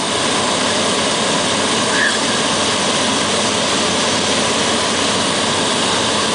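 Steady, loud engine drone from inside a light aircraft with flaps lowered on final approach into the Amboseli National Park airfield, a continuous broadband roar with no break.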